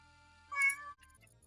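Several house cats meow close by in a short, loud burst, then fall quiet while a faint low background hum continues.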